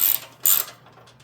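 A ratchet wrench tightens bolts on the drivetrain of a 33-inch Snapper mower: two short, close bursts of rapid clicking, followed by a faint trailing tick.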